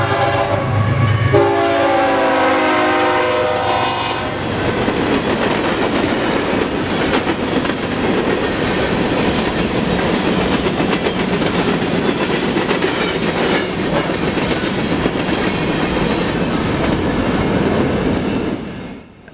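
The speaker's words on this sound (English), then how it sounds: "we move over to the old depot to catch a northbound grainer" Northbound empty grain train rolling past an old depot, opening with a loud horn blast, then a long steady roar of locomotives and light rattling cars with clickety-clack wheels close by, fading only at the end.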